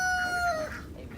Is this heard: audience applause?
no